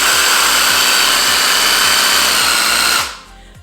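A homemade percussion massage gun built from a jigsaw runs at full speed, a loud, steady mechanical whine with a fast rhythmic pulse, held close, then cutting off sharply near the end.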